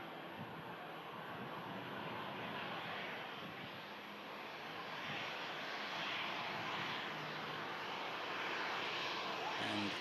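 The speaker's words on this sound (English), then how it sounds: "that aircraft's just pushing back now from Terminal 2 here at Manchester" An Aer Lingus A330 pushing back from Terminal 2 at Manchester Airport gives off a steady broad engine roar at a distance, holding constant and swelling slightly toward the end.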